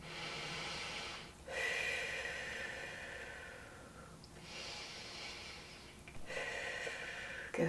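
Slow, steady breathing during a held TheraBand resistance band exercise: a few long, close airy inhales and exhales, with no talking.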